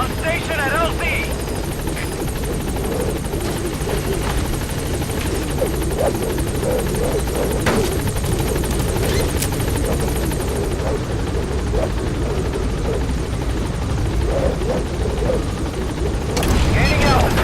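A helicopter lifts off in the video game Metal Gear Solid 5, with a loud, continuous, close rotor roar and engine whine running throughout and radio-style voices talking over it.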